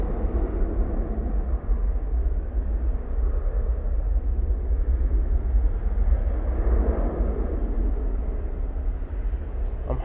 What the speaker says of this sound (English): Etihad 777 is only moments away from arriving.